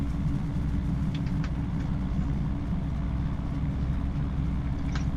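Steady loud low rumble of a train passing in Farming Simulator 2025 on the Kinlaig map, a continuous heavy drone with a few faint higher clicks over it.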